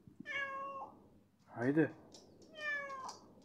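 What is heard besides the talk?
cat meowing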